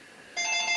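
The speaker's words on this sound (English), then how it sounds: "Hopefully my wife will answer the phone." A landline telephone rings in a home, a steady electronic trilling tone that starts partway through after a quiet stretch and keeps going, fairly close and clear with no talk over it.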